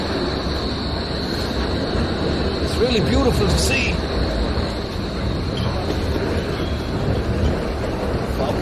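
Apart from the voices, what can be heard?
tram passing in Berlin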